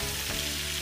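Food frying in a pan gives a dense, steady sizzle that fills a brief moment, loud and close, with no voices.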